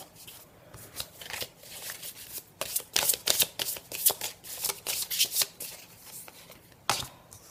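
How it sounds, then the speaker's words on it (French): Tarot cards are laid out and handled by hand, a close run of quick papery flicks, slaps and shuffling rustles in bursts, quiet overall with no talking. "je vais placer mes petites cartes"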